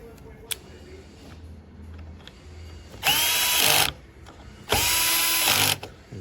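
A power tool drives battery cell lead screws into a housing in two firm bursts of roughly a second each, whirring loud and close with a ratcheting edge, separated by quieter handling noise.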